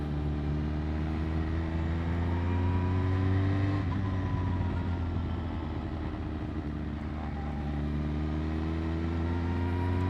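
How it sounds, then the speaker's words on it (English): A motorcycle engine hums steadily while riding, with quick throttle blips for rev-matched downshifts that sharply raise the pitch before it settles again. "So I'm exaggerating the blip so you can hear it."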